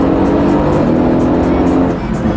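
A car accelerating hard with a loud, steady engine roar that stays close and builds across the whole stretch, recorded from on board.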